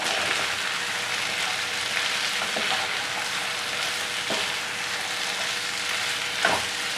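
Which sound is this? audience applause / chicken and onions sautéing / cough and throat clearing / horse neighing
chicken and onions sautéing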